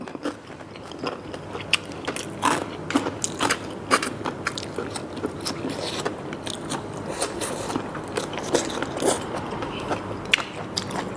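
Close, repeated crunchy chewing of braised pork ear, crisp irregular crackles in a steady rhythm for several seconds, with no talking.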